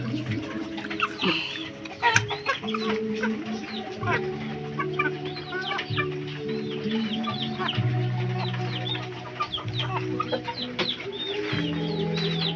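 Fighting cocks and young stags on a Filipino gamefowl farm crow and cluck repeatedly, several birds overlapping at close to middle distance in a busy, continuous chorus.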